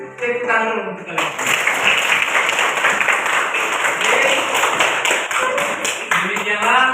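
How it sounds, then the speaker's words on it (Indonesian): Students in a classroom clap their hands after a correct answer. A burst of brisk, uneven clapping starts after a moment of talk and continues fairly loud, with a few sharp accented claps near the end. "Tepuk tangan dulu untuk kalian."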